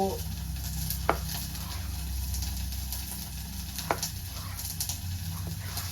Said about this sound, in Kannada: ಇಲ್ಲಿ ಆಲ್ಮೋಸ್ಟ್ ಆನಿಯನ್ ಫ್ರೈ ಆಗಿದೆ, ರೆಡ್ ಚಿಲ್ಲೀಸ್ ನೋಡ್ಬೋದು ನೀವು.